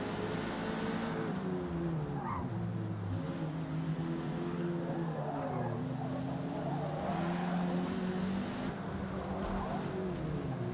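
Race car engines roar together at a race start in Forza Motorsport, a dense, loud, continuous mass of revving motors with rising and falling pitch sweeps, tire noise and cars surging past, with no talking.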